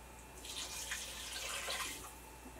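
Water pours from a broth container into a soup pot in a tiny house kitchen, a soft steady splashing trickle that runs the whole time at low volume.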